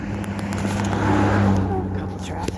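Cars pass along a road during a spring walk in coastal Maine, a steady near engine and tire hum that swells then fades, under light background sound.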